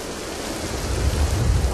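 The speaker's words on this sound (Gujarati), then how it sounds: "અમદાવાદમાં પણ વરસાદનું આગમન થઈ ચૂક્યું છે" Rain falling steadily over Ahmedabad during the monsoon, a brief, even hiss of downpour with a low rumble underneath.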